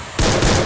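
Gunfire in the mobile battle-royale game Free Fire, a sudden loud burst of rapid shots starting abruptly and continuing as a dense close volley.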